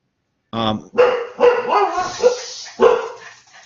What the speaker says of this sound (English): Hold on, dogs are interrupting again.